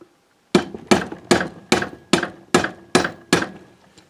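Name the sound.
tapping a part with a plastic mallet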